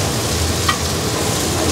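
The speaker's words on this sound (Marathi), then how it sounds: "आणि इथे बाजूला बोंबील फ्राय होत आहेत" Bombil, Bombay duck coated in rava and chilli powder, frying in a pan at a Ratnagiri hotel: a dense, loud, continuous sizzle with a small clink partway through.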